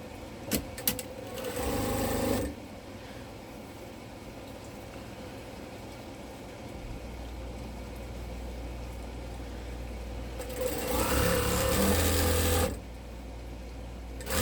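A sewing machine stitching a quilt in progress, running in two bursts of steady whirring motor hum, each several seconds long and stopping abruptly, with quieter background noise between, near and without talk.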